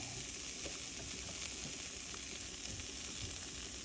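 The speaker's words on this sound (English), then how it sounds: "we're going to put the cheese on the griddle" Shredded cheese sizzles on a hot, oil-sprayed griddle for a keto chaffle, a steady close hiss and crackle continuing unbroken throughout.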